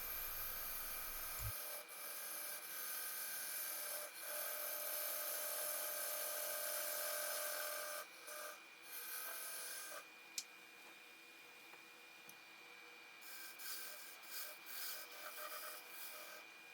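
A woodturning lathe runs while a tool cuts a tenon on a spinning wood blank, giving a close, rasping scrape over a steady motor hum, with the cutting sound easing and coming in short bursts toward the end.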